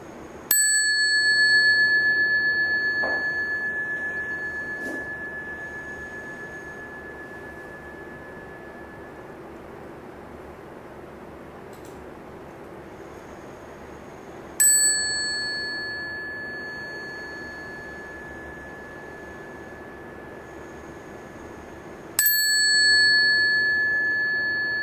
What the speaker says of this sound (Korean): 다시 한번 우리 종소리 한번 들어볼게요